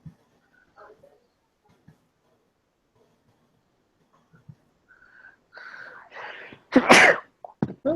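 A single loud, sharp sneeze bursts out near the end after a quiet stretch with faint rustling and a few soft vocal sounds.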